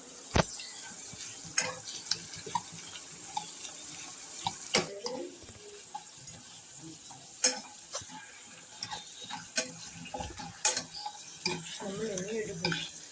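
Homemade potato chips frying in a pan and stirred now and then, with scattered scraping, clinks and soft sizzling over a quiet kitchen background, no talk.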